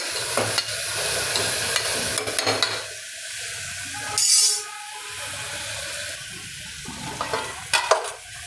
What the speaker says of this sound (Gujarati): હવે આ બધું શાકભાજી આપણે મિક્સ કરશું